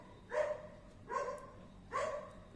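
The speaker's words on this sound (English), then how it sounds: "Now the dogs are barking." Three separate dog barks spaced about 0.8 seconds apart, heard outdoors at moderate distance and fairly quiet, with faint background noise and no talking.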